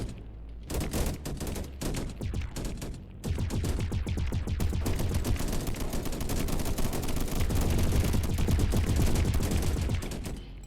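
Gun turrets fire in the Deep Amon swarm survival strategy game, a dense, continuous rattle of rapid shots that runs loud and steady almost the whole way through, with a brief lull near the start.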